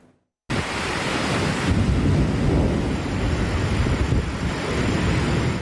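Heavy rain pouring down in a dense, roaring wash during a night thunderstorm in Istanbul, with low rumbling like distant thunder, loud and unbroken after a brief silent start.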